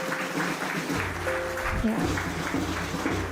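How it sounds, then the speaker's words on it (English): Applause from a law school convocation audience fills the hall, a steady close wash of clapping with faint voices mixed in. "Requesting continued cheer and applause"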